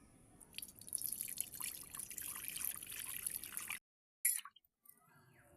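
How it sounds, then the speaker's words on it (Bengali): Boiled milk poured through a strainer into a vessel, a steady soft trickle and drip lasting several seconds before stopping, followed by a faint clink and a few quieter drips. "দুধটা এরকম ঢেলে নিয়েছি।"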